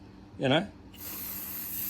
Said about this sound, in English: it's in an aerosol pack, and you give it a shake, then you can just,